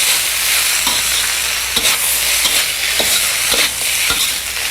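Vegetables for rainbow brown rice sautéing in a pan, a loud continuous sizzle with regular clanks and scrapes of stirring, no voices.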